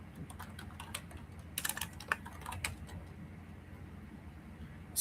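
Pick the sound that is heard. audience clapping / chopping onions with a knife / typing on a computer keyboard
typing on a computer keyboard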